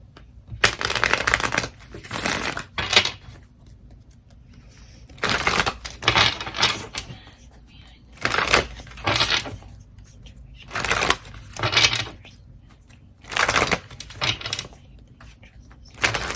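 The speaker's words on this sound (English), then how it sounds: "let me pull some cards" Tarot cards are shuffled and pulled in repeated bursts of crisp riffling and flicking, close and fairly soft, separated by short quiet gaps.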